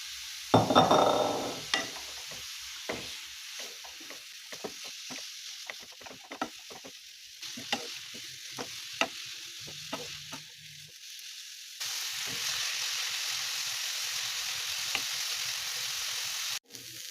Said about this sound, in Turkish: rendelediğimiz havuçlarımızı, ayvamızı şöyle ekliyoruz ve diriliği çıkana kadar orta ateşte ara ara karıştırarak zeytinyağını da kavuralım.